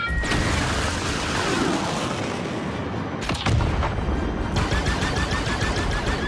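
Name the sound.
space fight weapon fire in the video game Star Wars Outlaws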